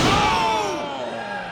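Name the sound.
wrestler slammed down onto the mat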